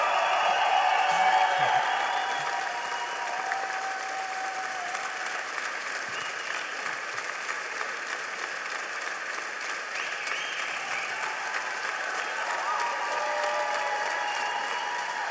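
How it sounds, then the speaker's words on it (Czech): Sustained applause from an audience at a Czech debate event honoring para ice hockey, steady and dense across the whole stretch, starting slightly louder and continuing evenly without talk. "vy byste tleskali tu hodinu a nic bychom si neřekli"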